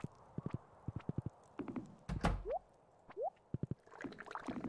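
Horse hooves clip-clop in the Stardew Valley video game, quick bursts of close hoof taps in a running rhythm, with a couple of rising chirpy game effects and a brief loud thump midway.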